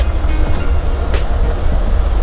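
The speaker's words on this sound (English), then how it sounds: "The only noise that you can hear is a bit of tyre noise." Inside a Mercedes-Benz O500RF coach cruising on a highway at about 80, tyres give a steady, loud low rumble and roar filling the cabin, with no voices over it.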